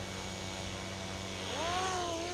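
An Airwolf RC helicopter lifts off with a steady whine of spinning rotors and motor, its pitch climbing and bending upward as it rises, loud and close with no talk.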